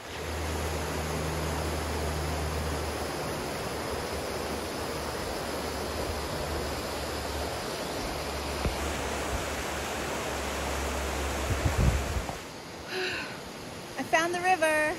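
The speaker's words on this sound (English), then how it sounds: "I found the river." A river in dense bush rushes in a steady, broadband roar that stays close and constant, with a brief burst of movement and a voice near the end.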